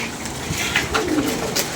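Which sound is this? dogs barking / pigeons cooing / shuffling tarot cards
pigeons cooing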